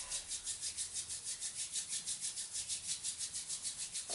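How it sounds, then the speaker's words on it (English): Palms rubbed briskly together during a prenatal yoga session, producing a close, steady series of rhythmic swishing friction strokes, about five per second, with no talking. "Start to rub the hands together,"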